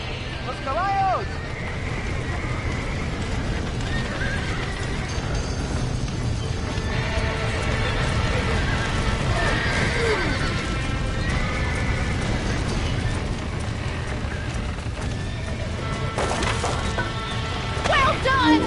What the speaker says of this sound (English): Somebody get them horses out!